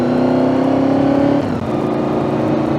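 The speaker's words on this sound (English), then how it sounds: "hit the throttle. The acceleration is nice and it's entertaining and it's not slow" Honda VFR750 motorcycle engine, 27 years old with 62,000 miles, ridden in the dark, revs up in a steady climbing whine, then shifts and carries on at a lower, rougher drone, close and loud with no talking.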